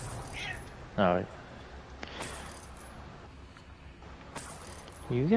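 A cat in the Hogwarts Legacy video game gives two short, close meows, one early and one at the very end, with quiet game ambience in between.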